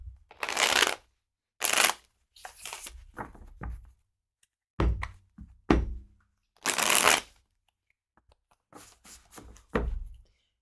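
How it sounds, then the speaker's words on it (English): A tarot card deck with stiff, bendy cardstock is shuffled by hand in repeated crisp riffling bursts, each a second or so long and separated by short pauses, close and clear. "shuffling"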